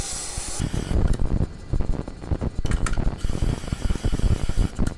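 A chisel's primary bevel is ground at 25 degrees on a sharpening stone, giving a steady, loud, scraping rasp in quick repeated strokes that continues alone for several seconds.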